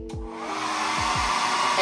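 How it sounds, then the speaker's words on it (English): A blow dryer roars steadily at close range while drying hair, its airflow whooshing continuously and building slightly louder toward the end, with a few soft knocks of handling at the start. "just take the blow dryer and"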